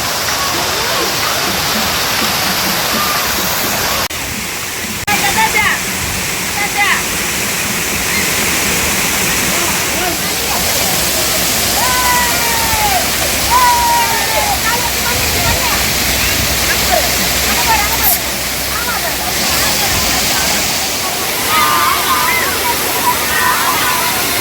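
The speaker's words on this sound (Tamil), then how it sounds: "இந்த கொடிவேரி ஃபால்ஸ்" Kodiveri waterfall in Tamil Nadu pours with a constant loud rushing roar of falling water, steady throughout, while a voice speaks over it.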